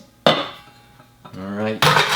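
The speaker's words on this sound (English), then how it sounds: "Time for the ice." Ice cubes drop into a glass for a mojito, a sharp clattering clink followed by a second rattling burst a moment later, close and fairly quiet.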